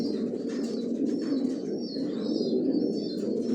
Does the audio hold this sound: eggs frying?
no